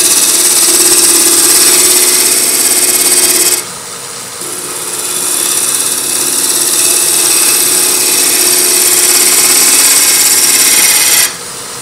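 A scraping tool cuts a spinning wooden hollow form on a wood lathe, making a loud, continuous rasping hiss over the motor's hum that briefly drops away twice as the tool lifts off the wood.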